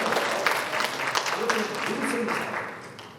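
Congregation at a Korean church missions revival meeting bursts into sustained clapping of thanks, a dense steady wash of many hands with some voices mixed in, fading slightly at the end.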